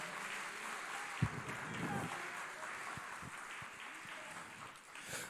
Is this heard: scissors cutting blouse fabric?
no